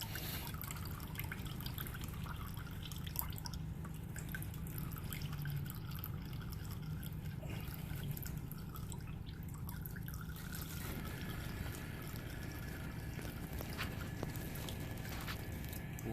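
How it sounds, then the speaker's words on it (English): Whey, milk and water trickle and drip from draining cheese curds in a cheesecloth, a steady close liquid dribble with no talking. "Try to drain as much excess milk, water, and whey as you can."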